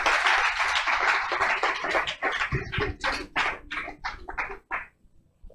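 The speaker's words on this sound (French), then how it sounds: "Let's give the Lord a hand clap." A church congregation claps in praise, a dense burst of many hands at first, then thinning into a looser run of separate, louder claps that fade toward the end.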